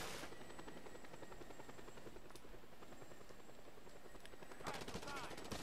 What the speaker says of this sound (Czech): Už je tady vrtulník, sakra.